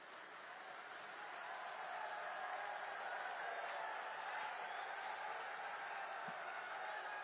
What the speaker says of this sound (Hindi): खड़े होकर तालियां बजा के गृह मंत्री जी का स्वागत करें